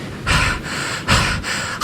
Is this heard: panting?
yes